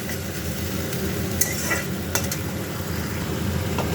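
Egg curry sautéing in a pan gives off a loud, continuous sizzle, with spoon scrapes and a few clinks against the pan as it is stirred and no one talking.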